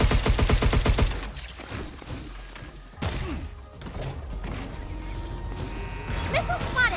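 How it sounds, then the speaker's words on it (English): Video game combat with a rapid burst of gunfire up front, then heavy thuds, crashes and ricochet-like pings as bullets bounce off, amid a busy, shifting mix with a voice speaking partway through. "Damn bullets bounce right off."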